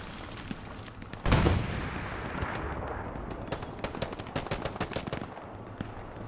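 Incoming artillery rounds landing near a T-34 tank in Hell Let Loose, set at the Battle of Kursk. A sharp, heavy blast hits close, followed by a run of scattered crackling gunfire and smaller impacts.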